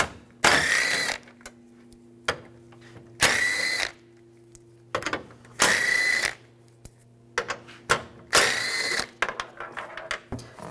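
A ratchet with a 10 mm socket removes headlight screws on a 2007-2013 Chevrolet Silverado in four short, loud bursts of rapid clicking, with small taps and clinks of the tool in between.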